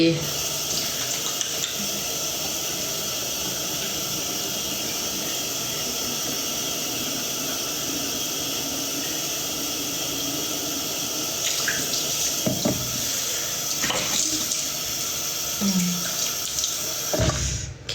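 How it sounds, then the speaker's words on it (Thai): Dishes being washed at a sink under a steady stream of running tap water, with a continuous close splashing rush and occasional clinks and knocks. "สู่การล้างจานเหมือนเดิม ไม่ชอบทิ้งจานไว้แล้วไม่ล้างอ่ะ"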